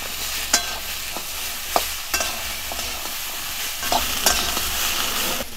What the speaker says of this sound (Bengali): লতিগুলোকেও হালকা একটু কষে নিতে হবে